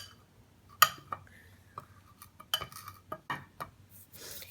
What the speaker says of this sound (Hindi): इन सब चीज़ों को पहले हम मिक्स कर लेंगे अच्छा सा